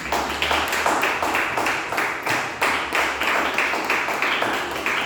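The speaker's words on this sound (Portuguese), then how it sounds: "Você pode aplaudir o Senhor mais uma vez?" A church congregation claps in a strong, even rhythm of roughly two beats per second, a steady rhythmic clapping wash that continues throughout without talk.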